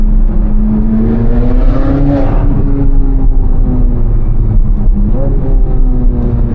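A Chevrolet Corvette C8 Z06 with the Z07 package accelerates in Z mode on an early morning drive, its exhaust a loud, steady droning roar heard from inside the car, pitch climbing gradually with a brief dip near the end.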